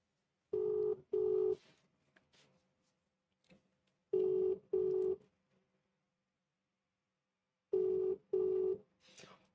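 A mobile phone rings in three separated bursts, each a pair of loud, clear electronic ring pulses with silence between bursts, heard close and alone.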